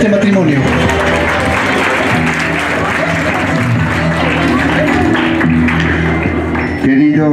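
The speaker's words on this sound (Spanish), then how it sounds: "Vamos a recibir con fuerte voto de aplausos al padrino de este matrimonio." Steady, dense applause fills a church wedding ceremony in Huaraz as the best man is welcomed, a loud continuous clatter of many hands that stops abruptly near the end.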